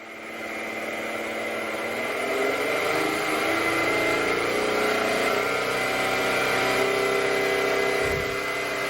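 A Rich Hall N machine running at increased speed, around 2000 RPM, gives a steady mechanical hum with a whining tonal drone that rises slightly and holds level, close and alone.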